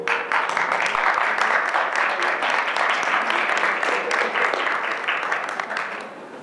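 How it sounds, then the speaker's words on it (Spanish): An audience at a medical conference applauds a speaker, a sustained burst of many hands clapping with distinct individual claps, loud and near, tapering off toward the end. "Un aplauso, por favor."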